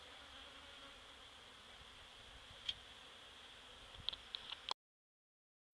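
Honeybees newly brought from another region drone steadily around their beehive, a continuous near buzz with a few brief louder passes close by.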